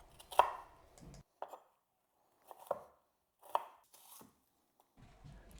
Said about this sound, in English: we're going to mince up 1 medium onion